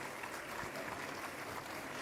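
A hall audience claps steadily for the first keynote speaker, the dean of IIIT Hyderabad, at a career conclave; the dense, even applause continues without pause from start to end.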